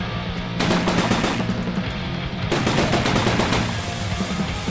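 Assault rifle firing in the VR zombie video game Drunk or Dead 2, loud rapid automatic bursts in two long strings separated by a short pause, close and dominant.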